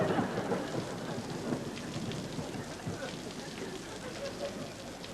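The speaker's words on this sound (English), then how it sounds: "Listen. Thunder." Steady heavy rain with a low rumble of thunder rolling underneath, constant and fairly close, no clear distinct crack.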